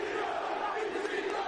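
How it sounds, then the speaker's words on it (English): A wrestling arena crowd roars loudly in a brief, continuous burst of cheering and shouting. "the crowd going wild for that maneuver right there"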